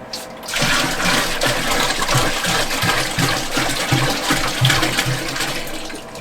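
Water pours into a homebrewing vessel while a Belgian saison is being prepared, a continuous loud gushing fill with a gurgling, churning low rumble that starts abruptly and carries on without talk.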